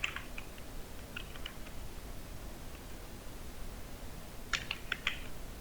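Keys on a computer keyboard are pressed in sparse, soft bursts: a few taps early on, then a quick cluster of clicks near the end, faint over steady background hiss with no talking.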